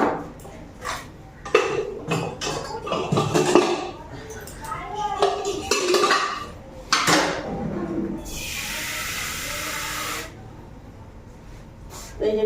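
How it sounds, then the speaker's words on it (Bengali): Pots and utensils clink and clatter in a kitchen as potatoes and peas are set into a pressure cooker for khichuri. The clanks come in irregular bursts, then a steady hiss takes over near the end. "এই যে প্রেসার কুকারে বসাই দিই"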